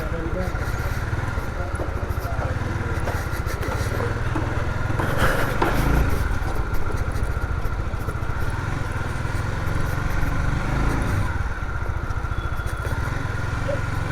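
A Honda CBR 150R Repsol motorcycle rides an off-road stretch near Uttara Airport Road, its engine a continuous droning hum buried in rushing wind and road rumble, with a muffled voice partly audible.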